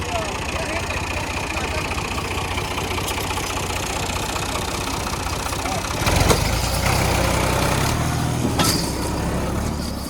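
A tractor hauling a trolley through a maize field with soft ground runs at a steady, loud, throbbing idle close by, briefly revving harder midway before settling again.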